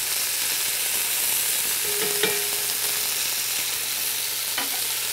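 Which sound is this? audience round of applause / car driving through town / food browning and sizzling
food browning and sizzling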